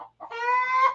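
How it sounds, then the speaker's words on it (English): A backyard laying hen lets out a short cluck followed by a drawn-out, nasal squawk, close and fairly loud. "Chicken, go away."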